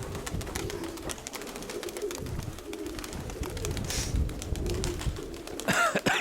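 Pigeons cooing softly outdoors, low repeated calls amid light ambient noise, with a brief burst of wing flaps near the end as birds take off.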